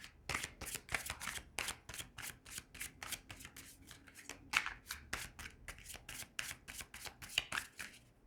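Tarot cards shuffled by hand in quick, regular riffling bursts, close and crisp, repeating steadily for several seconds without talk.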